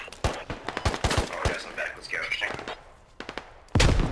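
Enemy gunfire in the military shooter game Squad comes as a burst of sharp shots early, then a quieter stretch with talk, and another loud blast near the end.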